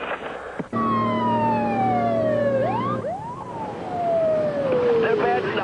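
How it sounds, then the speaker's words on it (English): A fire engine's loud wailing siren sweeps up and down in pitch, rising and falling repeatedly over traffic noise in New York. "I did hear your fire siren blow."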